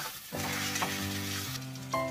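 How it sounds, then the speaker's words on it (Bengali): Chopped onion fries in a pan with salt, turmeric and a little sugar, giving a brief, steady, close sizzle with stirring. "পেঁয়াজের মধ্যে নুন, হলুদ, অল্প চিনি দিয়ে পেঁয়াজটা ভেজে নিই"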